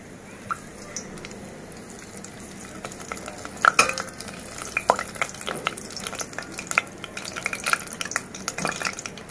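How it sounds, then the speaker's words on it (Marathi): Bay leaves frying in about four spoons of hot oil in a pot, the start of a Maharashtrian mutton curry; a steady soft sizzle runs throughout with scattered clicks and stirring scrapes, louder bursts around the middle, no talking. "इथे 4 चमचे तेल गरम करत ठेवलेलं आहे आणि त्यामध्ये आपण ही जी तमालपत्राची जी पानं आहेत ती आपण टाकली आहेत त्याच्यात."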